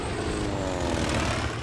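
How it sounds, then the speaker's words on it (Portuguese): Squadrons of American World War II torpedo bombers and bombers in flight over the Pacific, a steady, loud propeller engine drone that fills the whole stretch without pause. "os americanos enviaram vários esquadrões de aviões torpedeiros e bombardeiros"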